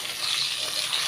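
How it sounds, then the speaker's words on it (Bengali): Pabda fish frying in a pan, a continuous bright hiss of sizzling oil, steady and close with a slight crackle throughout. "এগুলো প্রায় ভাজা হয়ে গেছে।"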